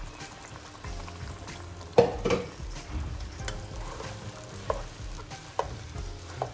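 Thai-style chicken curry sizzles in a pan while a utensil stirs and scrapes against the bottom, with occasional knocks.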